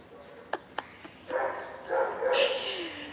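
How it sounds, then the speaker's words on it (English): Two sharp barks followed by a run of yipping, whining barks from dogs nearby, fairly quiet overall with a brief high whimper near the end. "you can hear the doggies barking."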